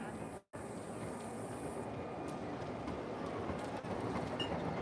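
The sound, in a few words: tram running on rails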